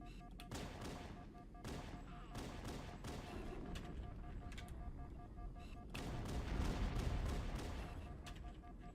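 Rapid bursts of gunfire from the video game Halo: Combat Evolved, dense and continuous with repeated sharp shots and a heavier swell of blasts toward the end.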